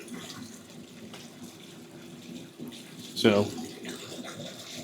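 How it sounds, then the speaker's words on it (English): Fresh cold tap water runs into a rodent rack's water reservoir, a steady close splashing rush with a brief louder gurgle partway through, while someone speaks a word over it. "we fill our water reservoir to the top using fresh cold tap water"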